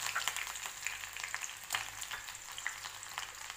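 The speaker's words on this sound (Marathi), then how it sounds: "आता या तेलामध्ये आपण 2 बारीक चिरून घेतलेल्या मिरच्या घालूया" Two finely chopped green chilies frying in a spoonful of hot oil in a wok, giving a continuous soft sizzle with scattered crackles and pops, fairly faint and steady.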